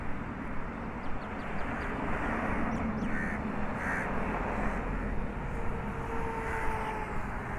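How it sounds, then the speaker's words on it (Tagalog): Several hoarse crow caws ring out at intervals over a constant low roar of distant aircraft or wind, faint and somewhat far off. "Uwak, uwak daw."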